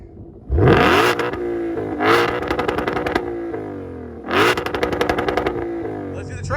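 A 2020 Shelby GT500 in track mode blips its exhaust three times, each sharp rev rising hard then settling into a loud, burbling idle, close and dominant throughout.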